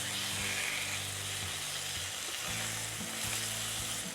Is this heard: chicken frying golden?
yes